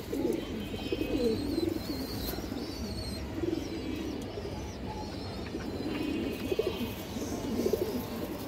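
Pigeons, a pair of male flying-line birds, coo in repeated low throaty phrases close by throughout, over a faint background hum.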